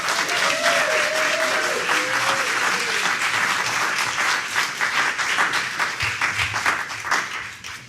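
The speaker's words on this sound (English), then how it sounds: "So please give a big round of applause for them." Audience applause at a concert: a loud, sustained crowd clapping with a brief whistle or cheer early on, holding steady before tapering slightly toward the end.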